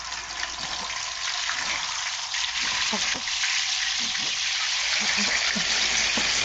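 Galunggong fish frying in a pan of hot oil, a steady close sizzle and crackle with bubbling pops throughout, alone with no talk.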